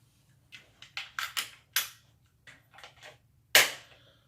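An unloaded handgun with an unloaded magazine gives a series of dry, sharp mechanical clicks and snaps during draw and dry fire practice. Some are single and some come in quick clusters, with one louder crisp snap near the end against a quiet background.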